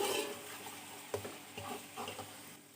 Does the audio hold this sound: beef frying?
yes